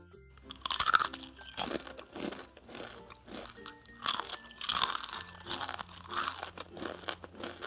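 Repeated crisp crunches of someone biting and chewing a kembang goyang, a crunchy fried cookie loaded with sesame seeds, close and loud with short pauses between bites and no talking.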